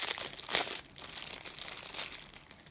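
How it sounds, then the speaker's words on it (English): Plastic packaging from diamond mandala art kits crinkles and crumples steadily during an unboxing, with louder rustling bursts near the start and again toward the end, close and without speech. "Sorry about all the crinkling."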